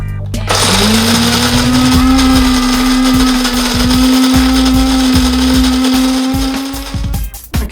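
A coffee grinder grinding Snappy Bigman Espresso Roast beans, a loud steady motorized whir with a droning hum that runs for about seven seconds before cutting off.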